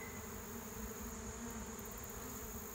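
Continuous roaring hum of an absconding swarm of roughly 200 to 400 honeybees, many wings buzzing together at an even level throughout.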